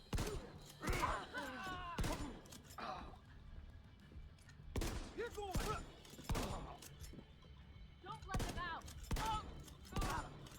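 Gunfire in the video game The Division 2 comes in clustered bursts of sharp shots with ringing tails, separated by short pauses and spread across the whole stretch.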